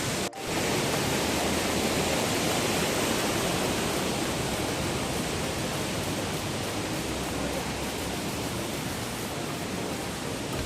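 A steady, roaring rush of water falling at Estrella Falls in Balabac, Palawan fills the whole clip, loud and unbroken, with no voices heard.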